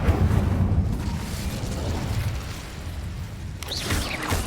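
An Incendio fire spell cast in Hogwarts Legacy, a dense roaring whoosh of flame with a low rumble, steady and close throughout, with a brief swishing flare near the end.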